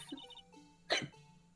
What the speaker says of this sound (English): I have hiccups.